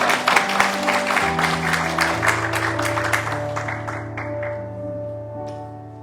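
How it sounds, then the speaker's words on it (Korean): A church congregation claps together to welcome newcomers during a Sunday service, the applause dense at first over sustained organ or keyboard chords and then thinning and fading out. "우리 다 같이 박수로 환영하겠습니다."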